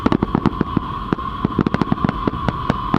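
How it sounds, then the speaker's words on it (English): Fireworks bursting during the man burn at Burning Man 2023, a rapid series of sharp cracks and pops over a steady crackling wash and a sustained tone, fairly loud and close. "I've never seen those fireworks before"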